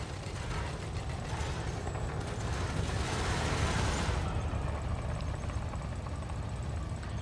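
Rapid multi-cannon fire from a spaceship in the space combat game Elite: Dangerous, a dense continuous rattle mixed with engine rumble, loud and steady for several seconds with no talking.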